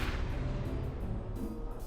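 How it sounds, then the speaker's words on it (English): A deep, boomy cannon-like blast rumbles low and sustained as a ragdoll character is launched in the video game Ragdoll Destroyer, heard alone without talk. "It has different buttons to adjust the height, and then you can launch the character."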